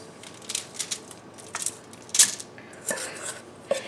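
Shortbread dough made with melted butter is pressed and spread across a cookie sheet, making soft scraping and tapping noises with one sharp metallic clink partway through, all fairly close and without talk.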